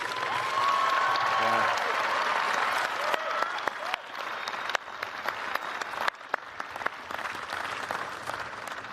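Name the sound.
commencement audience applause for graduates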